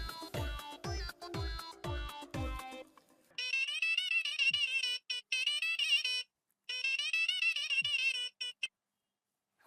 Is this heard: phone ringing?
yes